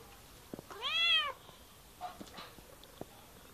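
A cat gives one clear, drawn-out meow close by, followed by faint small knocks and rustles in a quiet room.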